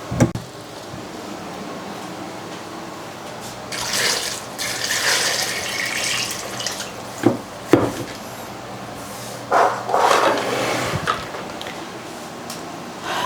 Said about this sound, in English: I'm going to get some more water here.